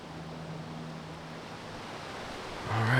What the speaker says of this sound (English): it's getting real windy